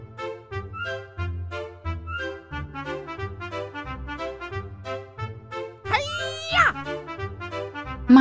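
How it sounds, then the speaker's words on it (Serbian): A single rising and falling cat meow stands out once, loud and near, over bouncy background music in a children's animal lesson. "Mačka."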